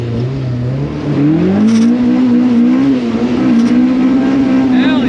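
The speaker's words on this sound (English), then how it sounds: "Ready to pop some VTEC maybe." Honda engine with barely working brakes revs hard and climbs steadily in pitch as VTEC kicks in, a loud sustained drone with a brief shout over it.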